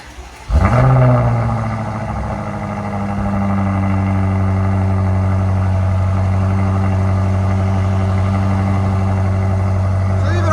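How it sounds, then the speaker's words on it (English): Cold start of a 2020 BMW M8 Competition with its 4.4L twin-turbo V8 and X-pipe exhaust: the starter catches and the engine flares to a loud rev, then eases down into a steady, deep, droning idle. "All right, guys, so we're gonna do a cold start on it."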